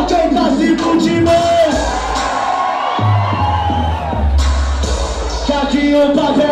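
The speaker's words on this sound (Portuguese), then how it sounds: "abre a boca e dá um grito" Crowd at a party event at a brewery shouting and cheering in a loud, continuous roar, with whoops and yells rising over music throughout.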